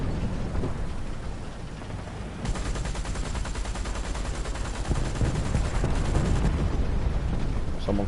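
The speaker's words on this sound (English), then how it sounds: "Someone's wasting the fucking machine gun bullets." Rapid machine gun fire in the War Thunder video game, a dense continuous rattle that thickens partway through and stays loud over a steady background rumble, with no talk.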